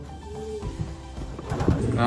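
Champion racing pigeons give short, low, soft coos close by, mixed with rustling and handling noise that grows toward the end.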